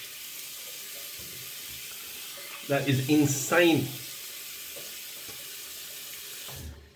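Hot tap water runs steadily while soap lather is rinsed off, a continuous hiss and splash that carries on under a brief spoken remark in the middle.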